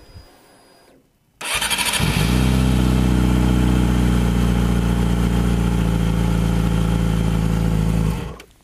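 Yamaha R6 sport motorcycle starting up: a short crank then the engine catches and settles into a loud, steady, close idle with a deep even rumble for several seconds before cutting off.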